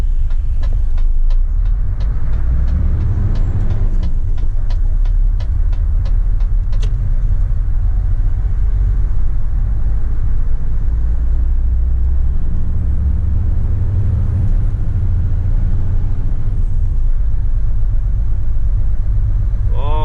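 Diesel engine of a Mercedes Actros 2541 truck pulling a trailer on snowy winter roads, a steady deep rumble that holds loud and close throughout with some shifting in tone and no talk.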